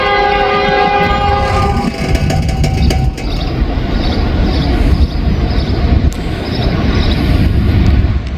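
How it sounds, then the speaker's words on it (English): A freight train horn with an odd, funky tone sounds loud and sustained at the start, then the mixed manifest of grain cars rumbles and clatters steadily past at a crossing in Wyoming. "Got a pretty funky sounding horn."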